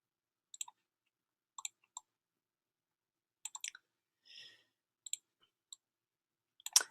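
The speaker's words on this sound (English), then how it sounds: "Let me actually type this." Scattered keyboard keystrokes tapped in short bursts of two or three clicks with pauses between, fairly quiet and close, ending in a louder clatter, with no talking.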